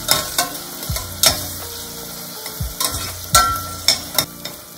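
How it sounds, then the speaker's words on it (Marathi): Curry leaves, ginger-garlic paste and onion sautéing in a pan for a peas and potato curry, with scattered sizzling and repeated sharp scrapes of a spoon stirring, close and fairly loud, with no talking. "त्याच्यात आपण आलं लसणाची पेस्ट टाकूया। कढीपत्ता छान परतून घेऊया।"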